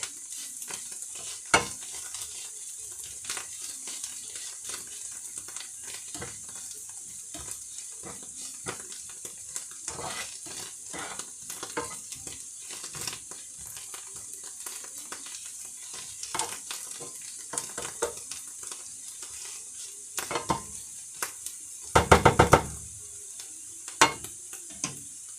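Onions and chanterelle mushrooms frying in a pan for a chanterelle pie, with a steady soft sizzle and frequent scraping stirs, plus a louder clatter of utensil against pan near the end.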